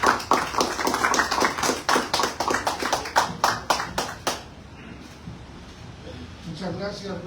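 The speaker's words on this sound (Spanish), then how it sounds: "Un aplauso." Audience applause welcoming a speaker at a lecture on democracy, a run of sharp hand claps for about four seconds that then stops abruptly, leaving room quiet and faint murmuring.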